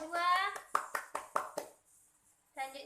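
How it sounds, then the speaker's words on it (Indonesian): A classroom of students claps for a group during a teaching practice session, a short burst of about five sharp, separate claps between stretches of a teacher's voice talking. "Beri tepuk tangan untuk kelompok 2"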